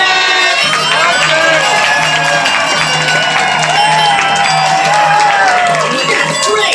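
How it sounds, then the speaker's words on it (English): A crowd of children at a birthday party at Chuck E. Cheese's cheers and claps loudly, with high, excited shouts and whoops over steady clapping that fills the room for several seconds. "everybody will all cheer and clap our hands as loud as we can"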